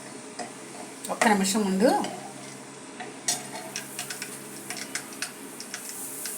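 Peanuts stir and sizzle in a hot pan for tempering rice, with scraping strokes and light crackling, while someone speaks briefly over the cooking.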